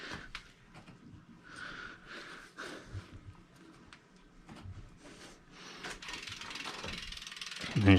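Close ratcheting clicks with mechanical whirring come from a part being tightened while a bicycle inner tube is swapped, in short irregular bursts with handling noise between them and a louder clatter at the end.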